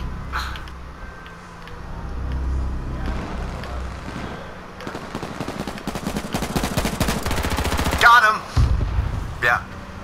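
A big gunfight in the PS4 survival shooter H1Z1, with rapid automatic bursts crackling at mid distance and building into dense sustained fire before sharper close shots, while voices murmur underneath.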